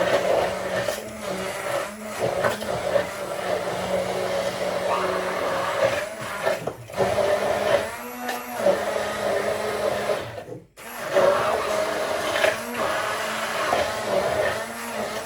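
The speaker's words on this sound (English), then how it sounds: "I just got a hand blender. You can use like a normal blender, but I've just got this one today. Just slowly blend it up." A hand blender buzzes up milk pancake batter in a home kitchen, its motor whining steadily close by. The pitch shifts as it works, with a few short pauses and one brief stop.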